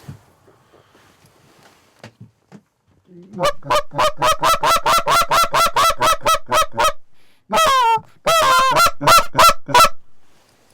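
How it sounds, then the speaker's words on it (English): A flock of geese honks loudly and repeatedly in a steady stream of calls, with a short break before another burst of honking. "we got geese."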